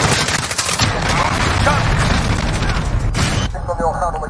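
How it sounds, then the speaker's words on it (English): Cruise missile strikes in a Modern Warfare multiplayer match land as a loud burst of rumbling explosions and crackling blasts, cutting off abruptly before fainter distant gunfire, with game voice callouts over it. "Enemy cruise missile."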